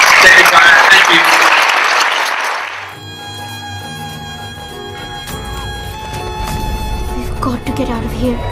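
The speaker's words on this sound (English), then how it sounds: "So a round of applause for the filmmakers." Audience applause for filmmakers at a festival opening-night screening Q&A, a broad dense clapping wash filling the first three seconds, then fading into quieter room sound and murmuring voices.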